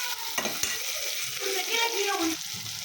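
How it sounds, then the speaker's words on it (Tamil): Onion, garlic, five dried red chilies and a large tomato sautéing in a pan, close sizzling with a couple of sharp utensil knocks early on, then steady stirring and frying. "ஒரு பெரிய தக்காளியாக ஒன்று சேர்த்துருக்கேன் போட்டு நல்லா வதக்கிக்கிடுவோம்"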